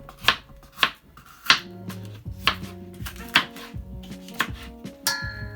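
A knife chops through half a green bell pepper on a board, about a dozen sharp, crisp strikes in an uneven rhythm, close up.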